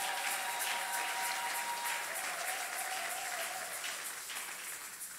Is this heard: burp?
no